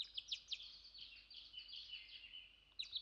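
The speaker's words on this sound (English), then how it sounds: "Eventually, I heard birds start to chirp." Birds chirp in quick, bright bursts in the video game Norn9: Var Commons, a faint, steady run of small calls over a quiet background with no talking.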